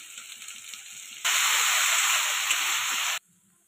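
Garlic paste hits a hot pan of onion paste for an egg korma, bursting into a loud, steady sizzle that lasts about two seconds and then cuts off sharply, leaving faint kitchen sounds.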